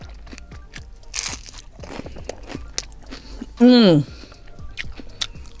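Someone bites and chews a Taco Bell Mexican Pizza, giving repeated crisp crunches and short chewing noises close to the microphone, with a person speaking and humming in between.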